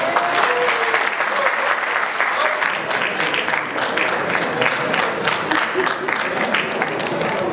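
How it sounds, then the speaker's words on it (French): An audience at a padel prize ceremony applauds steadily, dense overlapping clapping sustained at even strength for several seconds, with a crowd murmur and a voice or two mixed underneath. "Je voudrais que vous vous applaudissiez."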